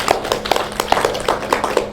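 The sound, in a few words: audience clapping loudly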